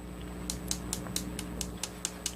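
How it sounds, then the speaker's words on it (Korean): The side of an orchid pot is tapped repeatedly during repotting, giving about nine light, crisp knocks at an even pace over a steady low hum. "지금 옆면을 때려주는 거거든요"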